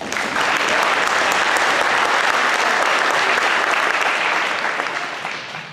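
A crowd at a Christmas concert claps loudly and continuously for several seconds, the sound fading a little just before it stops.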